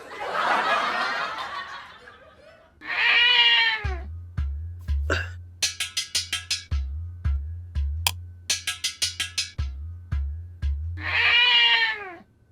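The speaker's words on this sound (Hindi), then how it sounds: "अरे ये तो बिल्ली है।" Several long, wailing meows from a nearby cat, loud and insistent, separated by a stretch of rhythmic thumping beats.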